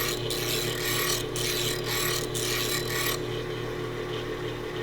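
A hand plane blade is ground on a grinding wheel, giving a steady, close rasping grind that runs the whole time with a few brief brighter scrapes as the edge stays in the middle of the stone.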